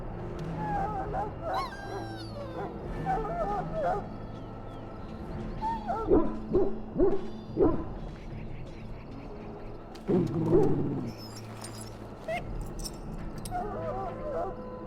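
A dog whimpers and gives short yips and barks in the video game Dragon Age: Origins, sounding in scattered bursts over a quiet game background, with some speech mixed in.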